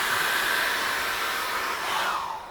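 A hair dryer blows steadily up close to dry acrylic paint on a seascape canvas, a loud, even whooshing hum that dips slightly before tapering off at the end.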